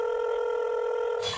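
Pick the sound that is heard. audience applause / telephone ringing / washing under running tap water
telephone ringing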